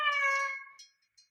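Kittens meow in a single clear, close cry that fades out, followed by a couple of brief faint squeaks.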